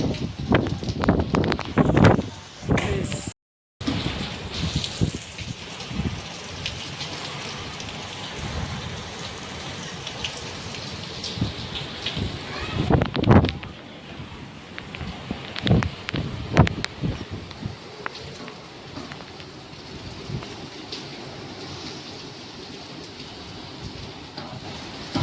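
Heavy monsoon rain and strong wind in Odisha, a steady loud downpour hissing on surfaces with gusts and occasional clattering knocks and rumbles, continuous for the whole stretch without voices.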